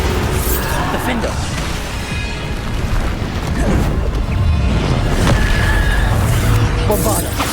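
Bombarda spell explosions in Hogwarts Legacy during a combat trial, dense repeated booms and crashes layered over loud game audio, with people talking throughout.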